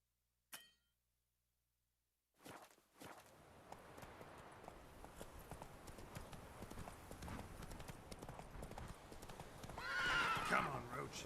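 A horse in The Witcher 3: Wild Hunt gallops, its hooves building into a steady, rapid clip-clop after a sharp opening click, and a loud whinny near the end, with game sounds and a voice.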